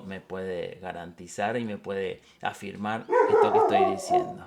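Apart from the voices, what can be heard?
dog barking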